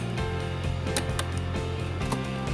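Parts of an electric fan motor from a Cosmos fan, stuck and being repaired, are reassembled up close with steady mechanical rattling and several sharp clicks, and no one speaks.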